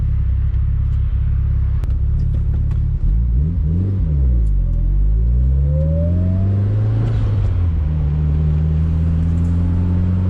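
A Mitsubishi Lancer Evolution VIII engine revs up while driving through rising and falling harmonic sweeps, a loud close rumble that climbs in pitch and settles into a steady drone.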